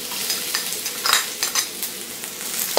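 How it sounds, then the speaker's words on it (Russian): Garlic, ginger and green onion sizzle and crackle in hot vegetable oil in a wok, with occasional scrapes and stirs over the steady hiss. "Все это немножечко обжариваем до появления чесночного аромата."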